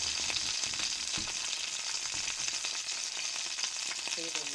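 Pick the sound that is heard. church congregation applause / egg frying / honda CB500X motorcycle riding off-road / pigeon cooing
egg frying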